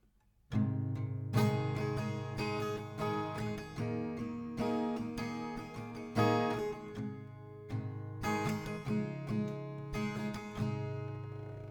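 Acoustic guitar strums the closing chords of the chorus of a song, including a G, in steady rhythmic strokes with brief pauses between groups, close and clear, with no talk.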